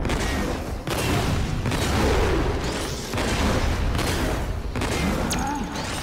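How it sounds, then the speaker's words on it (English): A laser gun fires in the Generator Rex action game on PS3, producing loud, dense bursts of blasts and booms that come in repeated waves. "Here comes my laser gun."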